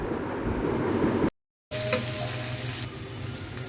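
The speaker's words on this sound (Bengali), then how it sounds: "মরিচ কুচি আর পেঁয়াজ কুচি খুব একটু ব্রাউনিশ করে ভেজে নিব" Chopped onion and green chili fry in hot mustard oil with a loud, close, crackling sizzle. After a short silent break the frying carries on more softly, with a light tonal ring that could be a spatula scraping the pan.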